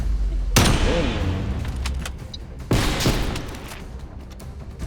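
Sniper gunfire in a 3v3 sniper match of a video game: two sharp, loud shots about two seconds apart, each with a ringing tail, over background game noise and some talk.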